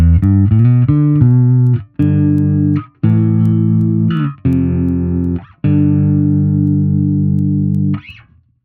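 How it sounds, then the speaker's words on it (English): Electric bass through a Line 6 Helix with an LFO-modulated flanger, a quick run of plucked notes then several long sustained notes with a slowly sweeping, swirling tone, loud and close with no speech. "That's the reason I'm using the flange, is to get that movement and motion."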